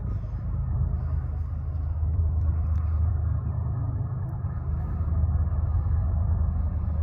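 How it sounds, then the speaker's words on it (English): A steady low rumble of a train engine passing along a mountain in Arizona, droning continuously at moderate distance, with no voices. "Got the train that comes along the mountain over here."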